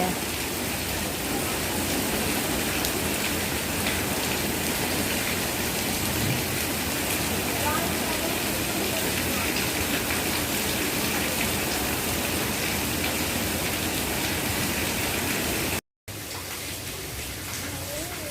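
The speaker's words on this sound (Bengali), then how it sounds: "জোর বৃষ্টি হচ্ছে এখন খুব জোর বৃষ্টি হচ্ছে" Heavy rain pours down in a dense, continuous hiss, steady and close throughout, cutting out briefly near the end.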